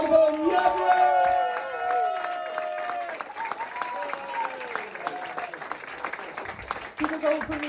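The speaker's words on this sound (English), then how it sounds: "help me welcome to the stage with a wonderful round of applause" Applause and cheering from a comedy club audience welcoming a comedian to the stage, a lively clapping wash with crowd shouts, while a sustained tonal sound rings over the first few seconds and then fades.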